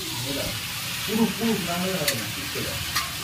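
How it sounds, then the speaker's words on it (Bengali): Onions frying in oil are stirred in a pan while chicken biryani is being made: a constant hissing sizzle with soft scraping turns and faint voices in the background. "একটু নেড়ে দেবো পেঁয়াজটা"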